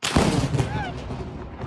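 Lightning strike close to a house, a sharp loud crack at the onset that rolls into a long rumbling boom, with a person's voice briefly audible under it.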